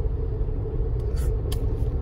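Tata Punch car cruising in city mode at moderate speed, a steady low cabin rumble of engine and road noise with faint brief ticks, no talk.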